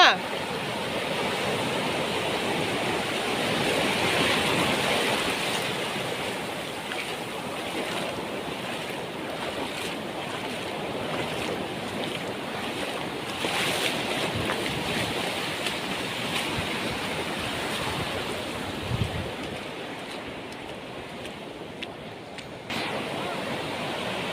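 Ocean surf breaking continuously on a swimming beach, a steady loud wash of waves with some wind noise, people talking faintly underneath.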